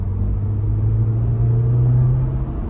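Steady, loud, deep rumble of a Jeep Wrangler Sport S turbocharged four-cylinder engine under light throttle, heard close from inside the cabin with a slight rise in pitch and no talking.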